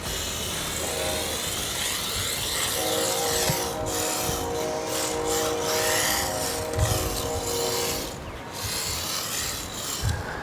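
A WLtoys 284131 RC car on drift tires skids across a surface in one continuous raspy, scraping rush, with a steady whining motor tone joining midway and fading near the end, close and fairly loud.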